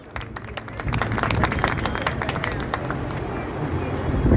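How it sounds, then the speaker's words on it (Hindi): Audience applause at an evening event honouring martyrs, a steady dense patter of clapping that builds gradually and stays loud, with crowd noise underneath. "जोरदार तालियां दोस्तों।"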